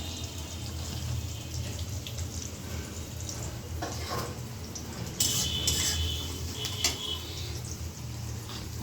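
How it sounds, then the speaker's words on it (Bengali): Onions cooking in a wok for chicken curry, a low steady sizzle under scattered metallic clinks and scraping from utensils, close up with no speech. "তার জন্য যে কড়াইতে পেঁয়াজ দিয়ে দিলাম"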